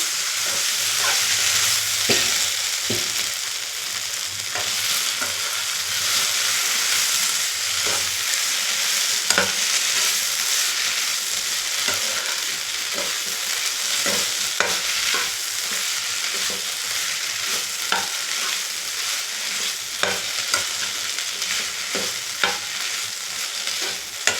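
Brinjal fries in a pan with a loud, continuous sizzle and hiss, broken by regular scraping clicks of stirring, with no talking.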